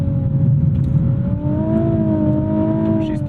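Nissan 370Z NISMO engine, naturally aspirated, pulling hard under acceleration with a steady rising drone heard from inside or near the car, continuous and fairly loud for a few seconds.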